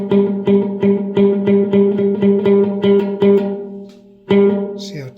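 An electric guitar through an Electro-Harmonix Epitome pedal's small room reverb plays a repeated chord strummed in steady rhythm, each hit with a short, tight reverb tail, then a pause and one last strum.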